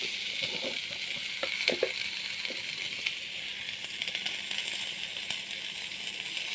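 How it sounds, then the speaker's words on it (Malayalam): Tapioca and chickpea curry is stirred in a pan after salt goes in, with a soft continuous sizzle and scattered scraping knocks of the spoon near the start. "കുറച്ച് ഉപ്പിട്ടു ഞാൻ ഇളക്കാം"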